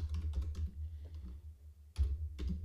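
Typing on a computer keyboard, quick bursts of muffled key taps with a brief pause before a final flurry, close up and quiet.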